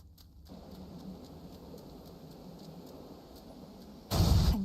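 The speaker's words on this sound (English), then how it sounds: "This storm shall pass." Steady rain and rumbling thunderstorm ambience from the video game Hades 2, a continuous wash of rainfall with low rumbles, ending in a sudden loud thunder crack near the close.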